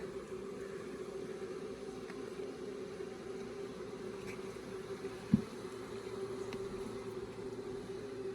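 Africanized honey bees hum in a faint, steady drone around an open hive during a brood-frame inspection, with one sharp knock midway.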